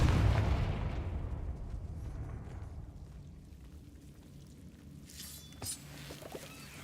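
The Confringo blasting spell goes off in Hogwarts Legacy, a loud explosive burst at the start followed by a long rumbling decay that fades to quiet debris rattles and a couple of faint crackles.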